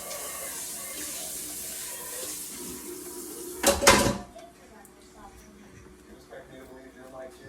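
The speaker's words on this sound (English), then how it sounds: "rinse this bowl" A bowl being rinsed under a running kitchen tap, a short burst of splashing water with a clatter, then quieter kitchen sounds.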